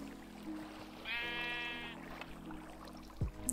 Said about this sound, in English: Sheep do swim, you can see it.